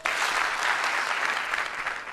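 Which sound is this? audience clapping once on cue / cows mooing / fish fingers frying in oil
audience clapping once on cue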